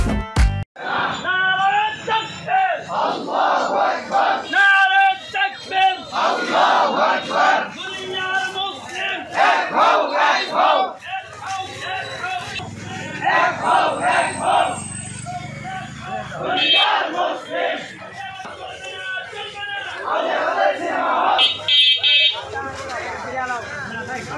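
A large crowd in Tangail chants takbir in loud, continuous massed voices, with repeated rising shouts across the whole stretch and no pauses.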